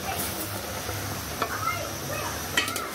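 Boiled potatoes are stirred into oil-free beef curry in a pot, with soft scraping and faint sizzling, a couple of sharper clinks of the utensil, and a voice talking nearby.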